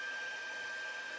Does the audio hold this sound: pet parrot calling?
no